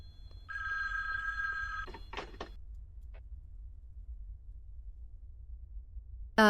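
A telephone rings in a horror video game, a sustained electronic bell tone followed by a few short rattling rings, then quiet, with a sharp sound at the very end.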